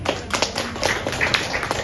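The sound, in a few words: audience applause at a health training event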